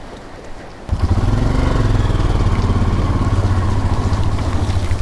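A motorcycle starts up abruptly after a quiet moment and revs into a steady, loud engine drone as the rider pulls away from Kasol, heading toward Delhi.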